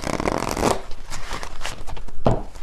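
A deck of tarot message cards gets shuffled in quick papery riffles and flutters, close and crisp, with two sharper bursts as the cards snap together.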